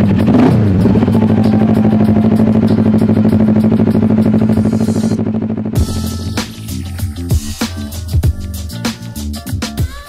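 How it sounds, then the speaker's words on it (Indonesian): Kawasaki ER6n motorcycle modified as a bobber, its engine cranking and catching, then settling into a loud, close idle with a rough, pulsing rhythm and some clattering. "Ini dia motornya, kita nyalain dulu."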